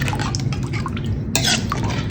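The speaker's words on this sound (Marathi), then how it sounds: "अजून थोडे पाणी आपण याच्यामध्ये मिक्स करतोय" Water being stirred into kat vada batter in a bowl, giving soft wet sloshing with light clinks of a utensil against the vessel, close and moderately quiet.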